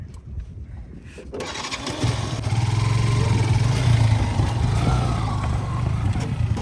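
A motorcycle crosses a bamboo bridge in rural Tangail. After a quieter opening, its engine rises into a loud, close, steady drone with a low rumble that holds to the end.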